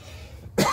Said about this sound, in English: sorry if I cough a little bit